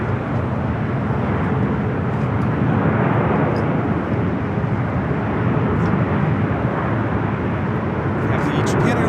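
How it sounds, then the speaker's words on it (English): Japan Airlines Boeing 787 Dreamliner airliner on short final at Los Angeles airport, a steady broad engine roar holding loud and constant throughout, with a voice talking over it. "We have the Japan Airlines Dreamliner on short final."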